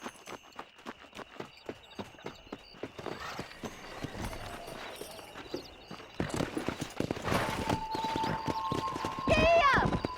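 Horse hooves clip-clop in a steady rhythm while riding in the Red Dead Redemption video game, the pace quickening toward the end, with voices and game sounds layered over the hoofbeats.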